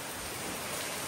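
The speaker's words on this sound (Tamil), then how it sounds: "சம்மர்ல சரியான மழை பெய்யுது ஃப்ரெண்ட்ஸ்" Heavy summer rain pours and splashes water in through an open side of a house, a dense, steady roar of falling water with no voices.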